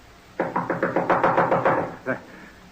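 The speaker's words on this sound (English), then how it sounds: "Knock again." A rapid series of about a dozen firm knocks on a door in a radio drama, evenly paced and close, then one final separate knock after a brief pause.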